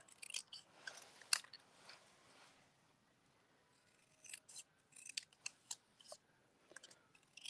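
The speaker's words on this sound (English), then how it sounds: "I'm just going to fussy cut this. And I'm actually going to cut the words out individually" Scissors snip paper as words are fussy cut out one by one for a stamped card-making sketch challenge, a quick burst of cuts early then a run of separate crisp snips, close and quiet with no talk.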